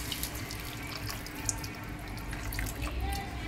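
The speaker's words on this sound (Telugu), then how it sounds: "ఇప్పుడు చింతపండు పులుసు పోసేసుకోవాలండి." Tamarind juice pours into a cooking pot of simmering stuffed brinjals and tomatoes, a close splashing, gurgling stream of liquid with faint drips and kitchen clatter behind it.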